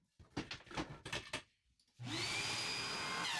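A jointer running 2x4 boards roars up after several short knocks and scrapes of wood being handled, then holds a loud steady whining hum with a rushing edge.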